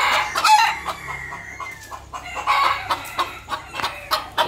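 Chickens on a small farm cluck in a run of short, close calls, with a rooster crowing early on, loud and clear without speech.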